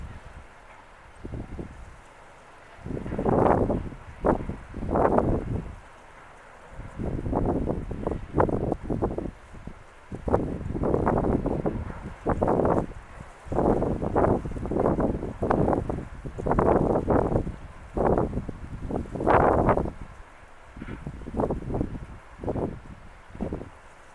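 Gusty wind at a beach buffets and rushes in irregular, uneven surges and lulls, fairly faint overall, with no talking.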